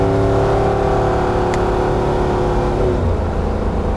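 A Land Cruiser 80 Series with an LS engine conversion and paddle shift revs steadily, its tone climbing and then dropping as it shifts, loud and close throughout with no voices.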